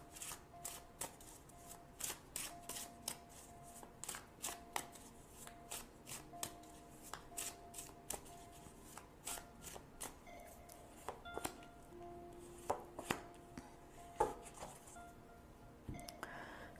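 Tarot cards are shuffled in a quiet, continuous run of soft snaps and riffles with a few sharper clicks near the end, and no one speaks.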